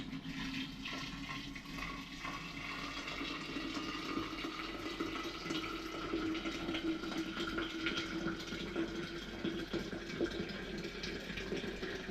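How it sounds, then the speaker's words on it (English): Steady rushing and gurgling of hot water being poured into a mix with apple cider, a continuous close-up liquid stream with no talking. "now I'm going to add the hot water."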